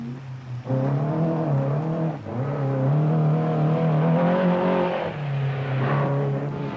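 A Datsun rally car competing in the Safari Rally drives past with a loud, sustained engine note that rises and falls through gear changes and revs, heard alone without talk.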